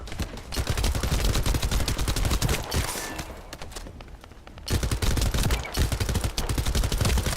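Dense automatic gunfire from the shooter video game The First Descendant, long rapid bursts with a short lull in the middle before the firing resumes, loud and continuous.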